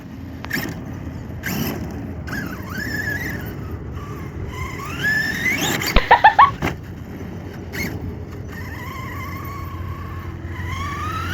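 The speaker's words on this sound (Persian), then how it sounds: "شما باید اینقدر سرعت عمل داشته باشید که با ترمز یا با گاز وقتی ماشین رو جامپه باهاش بازی کنید." An HPI Savage XL V2 radio-controlled car drives and jumps, its motor whining in rising and falling pitch over steady rumbling, with a burst of sharp clattering impacts partway through as it lands.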